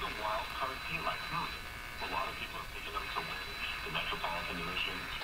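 A vintage RCA Victor Model A1 radio receiver, recently fitted with replacement capacitors, plays a broadcast faintly: muffled talk and music from the station beneath a constant hiss and static.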